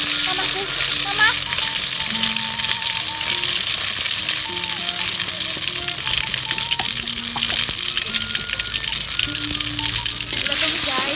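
Salted fish, tempeh and eggplant are stir-fried in a pan, a loud, unbroken sizzle with occasional stirring clatter running through the whole stretch, heard close.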